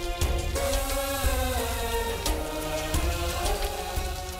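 Steady rain falls throughout the outdoor scene, a dense, even wash of patter that continues without a break alongside a musical score.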